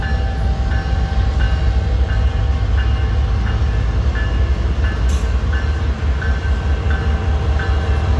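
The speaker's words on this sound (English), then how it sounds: "my northbound out of Council Bluffs manifest is slowly creeping" A northbound manifest freight train out of Council Bluffs creeps slowly past in Missouri Valley, Iowa, with a loud, steady rumble, rhythmic wheel clicks over rail joints and a brief high squeal.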